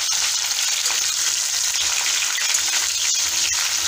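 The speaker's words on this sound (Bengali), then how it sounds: "এটা নাড়তে থাকবো।" Mango pickle cooking over low heat in a pan, a dense, steady sizzle close by with occasional soft stirring scrapes and ticks.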